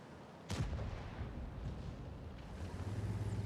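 A tank cannon fires once in a World of Tanks battle, a sharp, loud boom followed by a rumbling low decay and continuing engine-like background noise.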